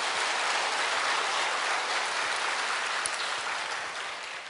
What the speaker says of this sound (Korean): 저를 대신해서 하나님께 박수로 영광 돌려주시기 바랍니다.